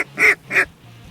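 Two quick, loud quacks from a duck in a field during a hunt, close by and clear, followed by a low background hum.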